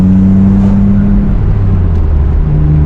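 A 1997 BMW M3 pulls hard through the gears from the cabin, with a loud, steady engine drone that rises in pitch and shifts near the end as the next gear engages.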